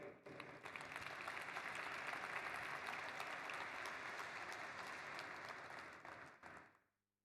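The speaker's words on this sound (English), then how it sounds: "So I would like to give all of us a round of applause because we're all daring to build." A room of audience members at an entrepreneurship talk breaks into steady applause, dense and even for several seconds before tapering and cutting off abruptly near the end.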